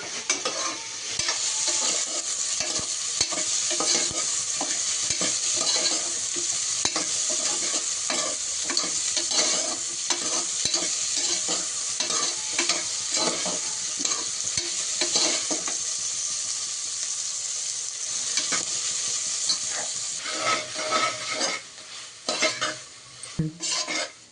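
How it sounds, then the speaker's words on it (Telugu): Cut vegetables for a vegetable biryani frying in a pan with ginger garlic paste, loud continuous sizzling overlaid by repeated scraping and clinking of a stirring utensil against the pan, ending in a few sharper knocks. "కొంచెం ఫ్రై అవ్వగానే మనం ముందుగా కట్ చేసుకున్న వెజిటేబుల్స్ వేసుకోవాలండి"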